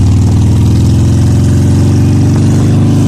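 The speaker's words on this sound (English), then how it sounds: "Unless you got like a stupid loud bike like Randy Handlebar." A loud motorcycle engine idles close by, a steady deep throbbing rumble with even low pulses running throughout, no talking.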